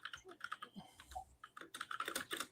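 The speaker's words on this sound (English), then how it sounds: "Hey, Jake, you typing?" Fingers tap out quick, irregular bursts on a computer keyboard, faint and close, with short pauses between runs of keystrokes and no talking.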